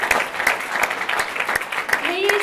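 An audience at a Conservative Party campaign launch in Australia claps steadily, many hands close and continuous, with a voice speaking over the applause.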